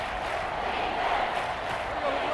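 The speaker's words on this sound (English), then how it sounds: "This crowd doing all they can." A stadium crowd in the Madden NFL 24 football game between the Tennessee Titans and Tampa Bay Buccaneers roars steadily as one dense, sustained wall of cheering and shouting, fairly loud and unbroken throughout.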